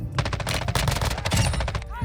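Rapid bursts of automatic gunfire from Call of Duty: Modern Warfare II Warzone 2.0 DMZ crackle in a fast, even rhythm, loud and continuous, ending with a short electronic sweep.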